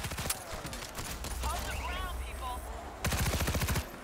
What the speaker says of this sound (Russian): Многоствольный гранатомет.